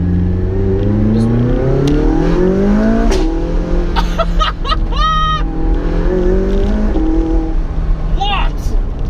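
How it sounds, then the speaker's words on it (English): McLaren 675LT engine revving hard through upshifts, each shift marked by a sharp exhaust pop and crackle, loud and close from inside the cabin with the windows down, with a person talking over it. "One of this thing's greatest party tricks is the way it pops on upshifts."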